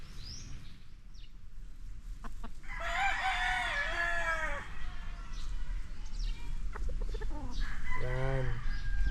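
A Dan Gray gamefowl rooster, a breeding bird at a gamefowl farm, crows loudly and close, with a long harmonic call in the middle and a second shorter crow near the end over steady outdoor noise and other birds.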